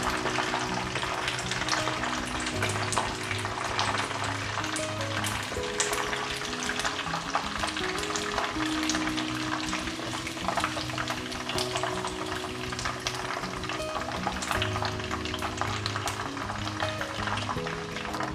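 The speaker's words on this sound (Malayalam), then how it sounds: "മീഡിയം ഫ്ലെയിമിലിട്ടിട്ട് ഫ്രൈ ചെയ്തെടുക്കണം" Chicken pieces deep frying in oil over a medium flame, a steady dense crackling sizzle running throughout at even loudness, with faint background hum and no talk.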